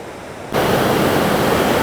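Magpie High Falls, a wide, tall waterfall near Wawa on Lake Superior's north shore, roars as a steady broadband rush that cuts in abruptly after a quieter start and then holds loud and constant.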